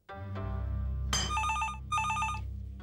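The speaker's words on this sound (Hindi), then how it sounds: "अगर ऐसे ये फोन बजता रहा ना तो मैं एक रोज इसे कटवा दूंगा" An old home telephone rings with a bright electronic bell in two clear bursts over a low background hum, close and fairly loud, with no talk.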